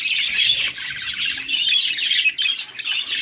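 A male rainbow budgerigar chirps and squawks in a rapid, continuous chatter of bright, close, fairly loud calls with brief breaks, heard alone with no voices.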